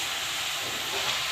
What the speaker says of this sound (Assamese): তাৰপাছত এয়া এনেকৈ কম জুইত ভাজি আছোঁ